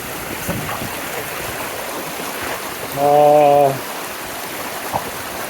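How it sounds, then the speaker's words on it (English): River rushing along the Pacific Crest Trail, a continuous broad wash of flowing water heard close, interrupted briefly by a loud harmonic tone midway. "I gotta just cross the river here real quick"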